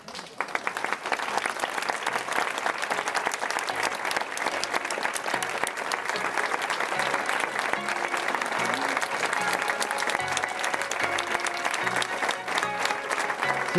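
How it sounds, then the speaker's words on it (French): An audience at a talk on depression breaks into sustained, even applause, a dense continuous patter of hands that runs throughout at moderate volume. "vos applaudissements"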